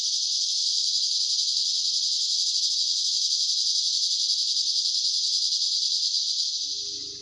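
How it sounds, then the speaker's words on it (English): A continuous loud, high-pitched insect buzz with a fast pulsing texture, like cicadas, steady throughout near Sedona, Arizona, before a faint low rumble at the end. "Here you can hear the buzzing noise really loud. Probably cicadas or something like it."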